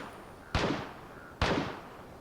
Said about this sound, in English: And gunshots happen right now.